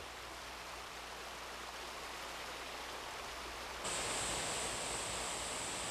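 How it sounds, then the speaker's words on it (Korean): Steady roaring rush of a waterfall in Guryong valley on Chiaksan, broad continuous noise that swells louder and brighter partway through, no voices. "구룡 계곡을 뒤흔드는 폭포수의 거대한 용트림."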